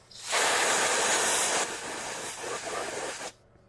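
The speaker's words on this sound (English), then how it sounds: "I'm going to go mad with the freeze spray" Freeze spray blasting onto an iPhone 6s circuit board, a loud close steady hiss lasting about three seconds before cutting off abruptly.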